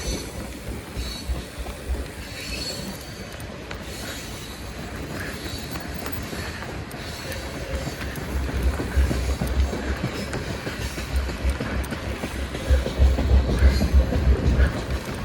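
Steady rumble and rattle of a freight train rolling along rails, with rhythmic clacking and a low drone that grows louder toward the end.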